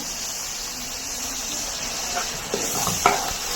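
Curry leaves and onion tomato paste frying in a pan for a chicken curry, a steady close sizzle with a few scraping stirs and light crackles toward the end.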